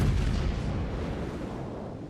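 Heavy warship guns boom in a naval battle game, one deep, sustained rumbling blast that fills the whole clip and slowly fades, loud and close with no voices over it.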